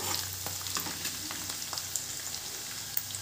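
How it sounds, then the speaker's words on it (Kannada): Garlic and dried red chillies fry in a pan for garlic chutney, giving a steady close sizzle with small crackles and pops throughout, no voices. "ಬೆಳ್ಳುಳ್ಳಿ ಒಂದು ಸ್ವಲ್ಪ ಗೋಲ್ಡನ್ ಕಲರ್ ಬರೋವರೆಗೂ ಫ್ರೈ ಮಾಡ್ಕೊಳ್ಳಿ"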